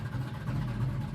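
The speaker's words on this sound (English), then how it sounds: "You don't even need a radio in this thing with the sound of that exhaust." Deep, rumbling exhaust note from a 1969 Chevelle, a steady low throb that holds throughout the short stretch with no voices over it.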